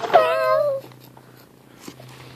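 A child imitates a kitty's meow: one short, bright, wavering vocal cry at the start, then near silence with a faint low hum.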